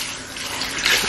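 Hot water gushes steadily from a hotel bathroom sink tap on a third floor, a close, loud, continuous splashing rush with no speech.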